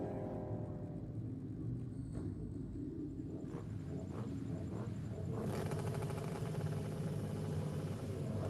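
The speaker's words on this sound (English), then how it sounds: "Building up the revs on the rocket lane." Drag racing motorcycle at Sydney Dragway on bike night, its engine rumbling low and distant before rising into a louder, sustained roar as revs build.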